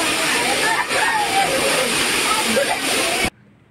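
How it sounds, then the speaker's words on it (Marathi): A waterfall pours into a swimming pool at a Matheran resort, a loud, continuous rushing splash heard up close with people's voices mixed in, before the sound cuts off abruptly. "धबधबा"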